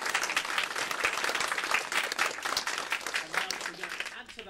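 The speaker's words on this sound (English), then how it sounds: "so can we have some clapping?" A theatre audience claps on request at a George and the Dragon show, a dense, continuous wash of many hands that holds steady before easing slightly at the end.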